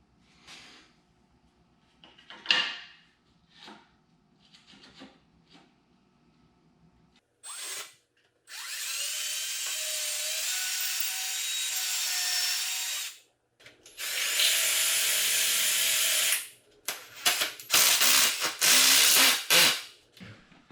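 Power drill driving 2.5-inch exterior deck screws into wood for a dog gate, several long whining bursts separated by short pauses and small handling clicks, close and loud.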